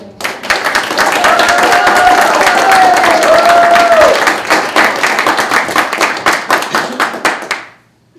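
A crowd at a school board meeting applauds and cheers a teacher, loud sustained clapping with whoops rising over it for about seven seconds before quickly dying away.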